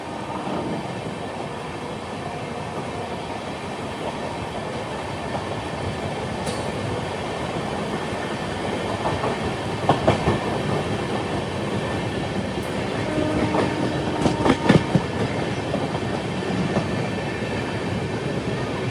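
A train rolls steadily along the rails past Lalitpur railway station, its sustained rumble heard from on board, with faint clicks and short metallic squeals building toward the end; no talk.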